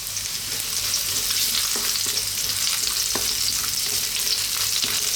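Garlic, ginger and bay leaves sauté in a hot pan, giving a steady bright sizzle throughout with a few soft scrapes and clicks of stirring, close and alone without voices.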